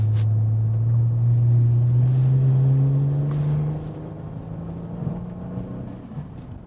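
A 2020 Kia Stinger GT2 fitted with the Stillen GT400 package sends up a loud, deep engine drone that holds steady and then drops to a lower rumble partway through, with no talking over it.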